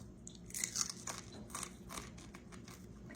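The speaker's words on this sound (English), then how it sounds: "That little fin right there, you just eat it off. Like that. Real crunchy." A crispy fried fish fin is bitten off and chewed up close, giving a series of sharp, crackly crunches in an uneven rhythm.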